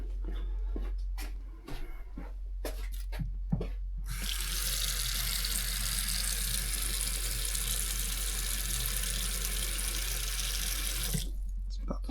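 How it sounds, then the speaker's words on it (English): Water poured from above onto a roof over a nail hole in an ice and water membrane, a sustained loud splashing rush lasting several seconds after some brief tapping and handling noises, then stopping. "Let's get some water on it."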